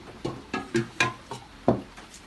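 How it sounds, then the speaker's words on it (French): Beignet batter being stirred by hand in a bowl as water is added a little at a time, giving a series of six soft, rhythmic knocking and scraping strokes, close and fairly quiet. "Je mets de l'eau, je remue."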